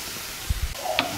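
Celery and other vegetables sizzle steadily in a hot pan, with a few soft clicks and scrapes of stirring.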